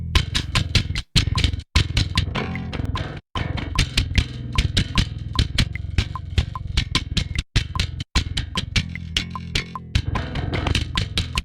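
A punchy, gated metal bass guitar line shaped with a transient designer for extra attack, sharp attacks and abrupt silences between phrases, loud and close, playing a choppy rhythmic pattern on its own.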